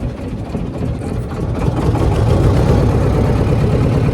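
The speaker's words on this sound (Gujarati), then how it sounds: "અત્યારે છે ને બોટ શરૂ થઈ ગઈ" A boat engine runs steadily at sea off Shiyalbet village, a low rumbling drone that grows slightly louder after the first second and holds constant, with no voices.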